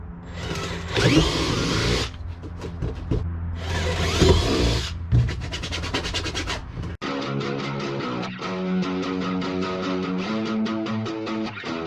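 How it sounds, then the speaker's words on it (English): A power drill whirs in two bursts with a short pause between, drilling holes while installing racing seats, followed by a steadier mechanical whine that runs to the end. "So I'm gonna go ahead and drill my 2 holes."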